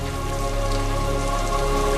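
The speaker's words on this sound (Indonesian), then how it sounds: "Saat hujan turun, tanah yang dipijak Max pun longsor" Steady, dense rain falls through a film scene as an even, loud hiss of drops with a low hum underneath, with no voices and no thunder.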